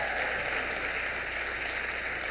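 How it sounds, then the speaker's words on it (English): Brief, steady applause from an evening audience at a university anniversary celebration, honoring a marching band, a dense, even wash of clapping that is fairly faint. "let's give a big round of applause to the USC Marching Band."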